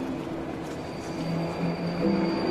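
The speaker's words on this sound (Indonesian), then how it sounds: "Kereta yang melaju." A train rumbles steadily along with a low mechanical drone and faint metallic squeals, continuous and fairly close, with no voices.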